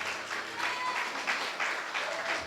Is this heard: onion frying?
no